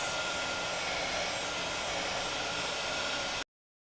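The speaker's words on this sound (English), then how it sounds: "So we're gonna grab our heat tool and just speed dry this before we do our die cutting" A crafting heat tool speed-dries slow-drying ink on paper with a steady close blowing roar like a small hair dryer, running unbroken for about three and a half seconds before cutting off into silence.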